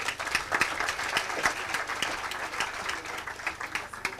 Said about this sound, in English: Let's clap for our panelists again.